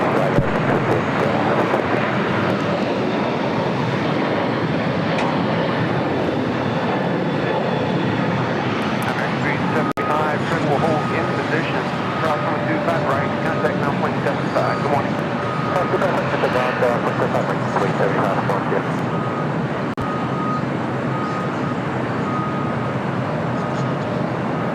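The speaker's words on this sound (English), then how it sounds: "China Cargo Airlines Flight 221 coming in from Shanghai, a 777 freighter, 11 minutes out" A China Cargo Airlines Boeing 777 freighter from Shanghai approaches to land on runway 25 left at LAX, its jet engine roar a loud, steady broadband rumble filling the whole stretch, with voices talking over it.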